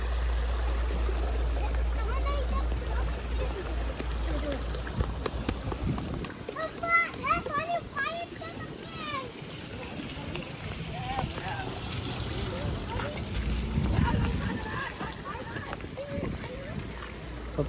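Floodwater rushing through a village stream, a loud continuous watery roar with children's voices and someone talking over it.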